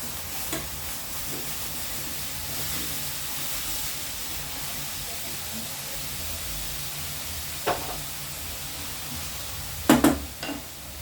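Food bubbles and hisses in a pot with a steady simmering wash, broken by a few clinks of a spoon toward the end.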